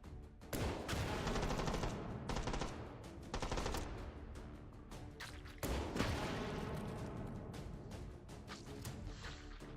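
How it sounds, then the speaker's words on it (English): A grenade launcher fires in a video game: loud, steady rapid blasts and booms repeat through nearly ten seconds, with sharper jolts every few seconds and no talking. "Now that is how to use a grenade launcher."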